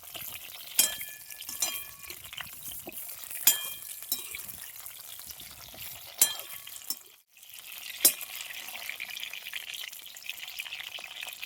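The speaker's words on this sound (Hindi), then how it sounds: "अब थाली हटाकर इसे हम उलट पलट के चला लेते हैं इस तरीके से।" Stuffed pointed gourds (parwal) are tossed and stirred in a pan in a village kitchen. There is a continuous gentle frying crackle, with several distinct utensil clinks and scrapes spaced a few seconds apart. Close, moderately quiet, and no one speaks.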